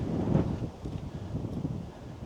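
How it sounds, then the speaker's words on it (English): Gusty wind buffets the microphone outdoors, a low rumbling whoosh that swells briefly near the start and then settles into steady blustering. "And it's windy as hell out here."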